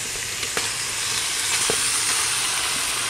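Steady sizzling and frying as stingray fish goes into spice paste cooking in a pan for a Bengali fish curry, a loud continuous hiss with a few soft stirring knocks.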